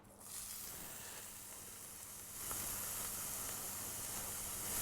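Onions frying in a deep fryer give a steady, soft hissing sizzle that starts abruptly and grows slightly louder partway through, continuous and without voices.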